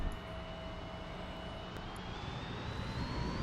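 Steady drone of a fixed-wing aircraft engine in a military strategy video game, a faint continuous hum with a slowly rising whine and no talk over it.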